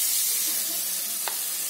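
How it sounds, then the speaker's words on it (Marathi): Sliced guava and paneer fry in ghee in a pan, giving a steady close sizzle with soft stirring and a single sharp utensil tap near the end. "पेरू आणि पनीर फ्राय करून घ्यायचं आहे।"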